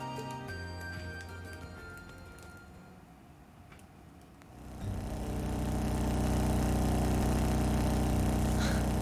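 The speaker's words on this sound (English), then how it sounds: "The vibration of the engine reminds me of a lion's purr." A vehicle engine in the video game Trails of Cold Steel starts up midway and settles into a loud, steady, low rumbling hum after a quieter stretch of ambient game sound.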